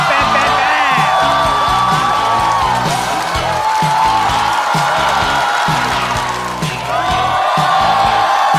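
A stand-up comedy audience roars with sustained applause and cheering, a dense, loud wash of clapping and whoops that keeps going throughout while music plays underneath.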